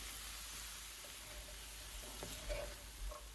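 Chicken and chopped vegetables frying with minced garlic in a pan for hot and sour soup, a faint, steady sizzle with a few soft stirring scrapes.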